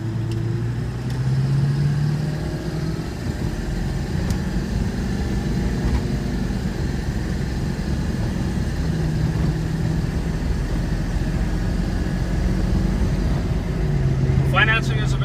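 A 2002 Ford F-550 XLT truck rolls along on a test ride, its engine a steady low rumble inside the cab under continuous talk.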